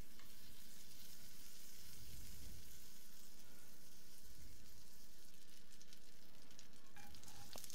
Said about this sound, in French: dans une poêle, on va venir faire fondre nos 20 g de beurre à feu doux